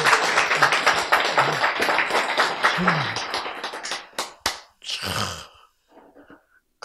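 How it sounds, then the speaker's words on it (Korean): Audience clapping at a Korean church lecture, a dense burst of hand claps over the first few seconds that thins to scattered claps and fades, with talk mixed in. "박수, 박수."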